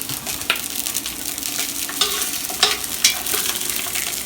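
Sausage browns in hot coconut oil in a pan over medium-high heat, giving a steady close sizzle with a few sharper crackles and spatters scattered through.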